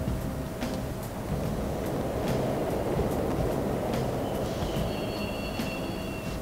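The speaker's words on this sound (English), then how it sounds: "The trains are totally running!" Subway trains running in the video game Persona 5 Royal, a steady rumbling rail drone with rhythmic clacks and a faint wheel squeal near the end, heard alone without talk.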